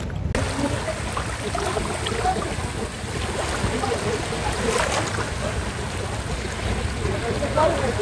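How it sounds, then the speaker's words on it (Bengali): Steady broadband rush of sea surf at a beach, continuous and fairly loud, with no clear speech over it. "এটা মনে হচ্ছে কক্সবাজারের ঢেউ"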